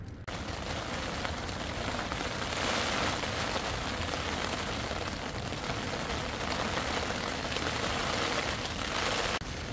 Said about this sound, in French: le fait d'être sous la tente, sous la pluie, ça permet de tester l'étanchéité de la tente